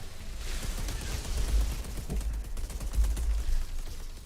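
Rapid turret fire in the Outriders video game, a dense continuous clatter of shots with low booming thumps underneath, moderately loud and steady for several seconds without talk.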